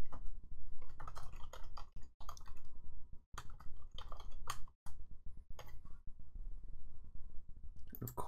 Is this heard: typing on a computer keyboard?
yes